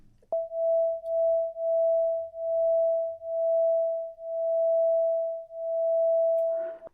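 Two slightly detuned sine tones sound together as one steady pure tone that swells and fades in a regular, gradually slowing beat, alone and clean, ending with a brief noisy click.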